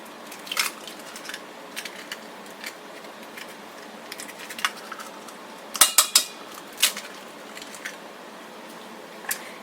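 Two eggs cracked one after another into a bowl that already holds coconut oil, heard as sharp taps and clinks against the rim, with a louder cluster of cracks near the middle and quiet handling in between.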